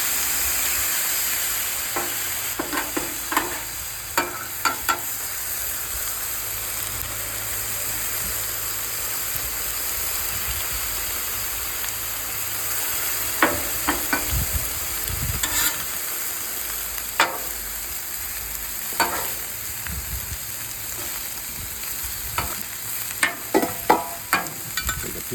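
Chicken stir fry with noodles sizzles on a Blackstone griddle, with barbecue sauce, ginger paste and garlic paste in the mix: a steady, close frying hiss throughout, broken by scattered scraping and clinking of a spatula stirring the food, and no talking.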